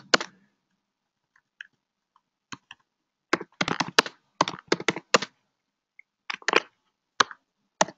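Keys tapped on a computer keyboard in short irregular bursts of crisp clicks, close up, with quiet pauses between words.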